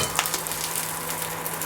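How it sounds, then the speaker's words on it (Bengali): Capsicum and onions stir-fry in hot oil in a pan, giving a steady, close, continuous sizzle with no voices. "এগুলোকে আমি একটু নেড়ে চেড়ে ভেজে নেব। ক্যাপসিকাম আর পেঁয়াজগুলো ভাজা হয়ে গেল"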